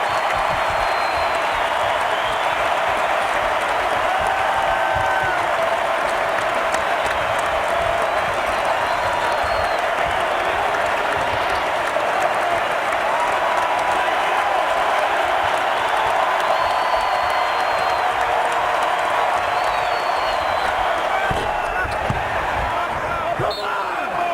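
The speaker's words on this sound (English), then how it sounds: "And a standing O from their crowd." Home crowd at a North Carolina college basketball arena giving a standing ovation, sustained loud applause and cheering with a commentator talking over it.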